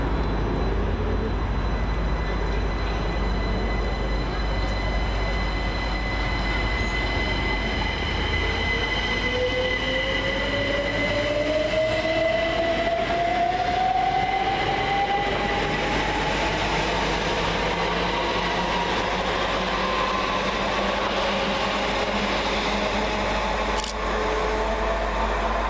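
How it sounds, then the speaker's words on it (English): Greater Anglia Class 379 electric trains pulling out of Tottenham Hale station, a steady rumble with a rising whine and squealing wheels building and fading over time. "departing on the far side, 379020 and 379008 with the 1540 Greater Anglia service from London Liverpool Street to Cambridge"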